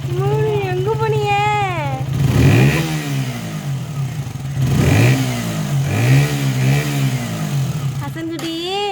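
A motorcycle engine revs up and down repeatedly at close range, with rising and falling whines in a loud, uneven rhythm.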